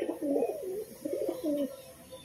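A pigeon chick coos in soft, low warbling phrases, two short bursts separated by a brief pause, close and quiet with little else around.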